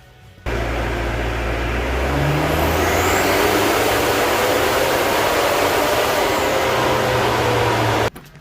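Mitsubishi Delica engine revving hard on a chassis dyno, a loud sustained roar that climbs steadily in pitch over about seven seconds and then cuts off abruptly.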